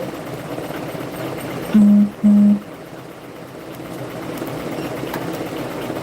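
A multi-head MT-1506 embroidery machine lays down a placement stitch for an applique, giving a steady, close mechanical hum. Two short loud bursts of rapid stitching break in partway through, and the hum continues after them.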